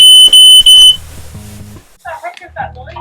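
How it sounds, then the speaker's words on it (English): Smoke alarms being tested by a landlord give three loud, piercing high beeps in quick succession, followed by a person talking nearby. "It's my landlord testing the alarms."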